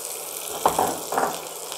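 Carom seeds, curry leaves, mustard seeds and asafoetida fry in hot oil, giving a steady close sizzle with two brief louder crackling bursts.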